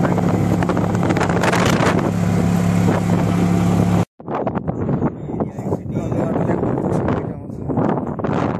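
Strong wind on the road to Nandgaon buffets the microphone in loud, rough gusts over a constant low vehicle drone, cuts out abruptly, then returns as gustier roaring with some voices beneath.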